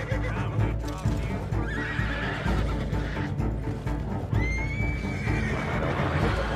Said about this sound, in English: I don't want to hit the horse.